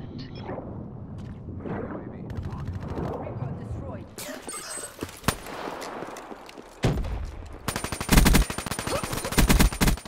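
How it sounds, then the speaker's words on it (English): Video game gunfire erupts in a multiplayer shooter match, with bursts of automatic weapon fire and single shots growing louder and denser toward the end, some close and some distant, mixed with game sound effects. "Trying to shoot me."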